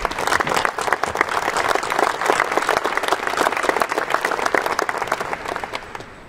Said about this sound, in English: Let's give all the folks a round of applause for everything.